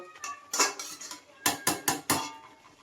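Mutton is stirred in a covered pot, heard as sharp metallic clanks and scrapes of a utensil against the pot in a quick series of close, distinct hits.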